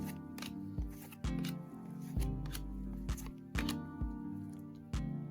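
NBA Hoops 2024-25 trading cards from a Winter Blaster pack are flipped one after another, making soft crisp clicks at a steady pace over quiet background music.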